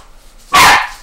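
Toby, a dog, lets out a single loud, close bark that cuts sharply out of near silence.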